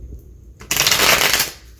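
A tarot card deck is riffle-shuffled up close: after a quiet start, a dense burst of crisp flapping card noise lasts under a second before fading out.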